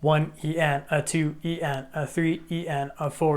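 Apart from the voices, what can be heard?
No everyday noise stands out behind the speech.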